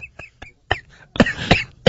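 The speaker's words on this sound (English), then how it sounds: "he's coughing now" A man coughs in a string of short, sharp bursts, building into a harsher, wheezing fit that sounds like a laugh turning into a cough, close and fairly loud.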